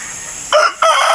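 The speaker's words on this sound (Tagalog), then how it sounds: "Yan yung mga manok" A loud rooster crows nearby in two bursts with a brief dip between, over a steady background hum.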